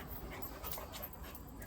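A puppy pants rapidly and close up in quick, breathy bursts. The panting is fairly soft and steady, with no voices over it.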